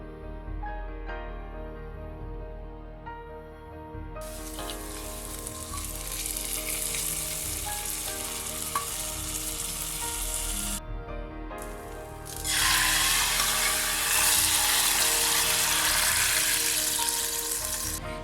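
Curry leaves crackle and sizzle in hot oil, a steady frying hiss that swells loudly near the end as the hot tempering is poured over a Kerala-style roasted-coconut shark curry, close up with no voices.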